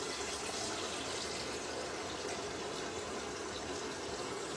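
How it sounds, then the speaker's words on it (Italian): Tap water runs steadily into a pot to be boiled for pasta in a home kitchen, a continuous faint hiss and splash heard alone with no talking. "mettiamo dell'acqua a bollire"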